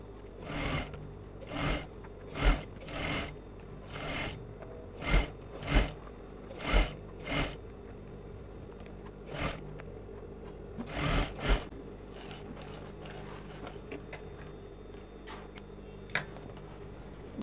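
A sewing machine understitches a sleeve seam on an off-the-shoulder structured sleeve, running in a string of short, close bursts of rapid mechanical stitching separated by brief pauses, with no talking.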